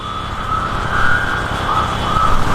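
Ambulance siren in an Indian roadside scene, a loud nearby wailing tone holding steady and rising in pitch at intervals, with no speech over it.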